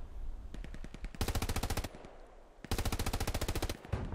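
Automatic gunfire from the World War II shooter game Hell Let Loose, during a German attack in a forest: two long, loud, rapid machine-gun bursts with scattered single shots between them.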